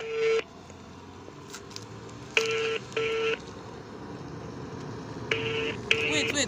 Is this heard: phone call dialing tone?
yes